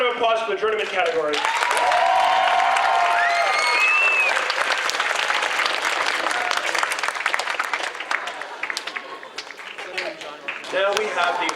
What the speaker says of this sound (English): Let's get another big round of applause for the journeyman category.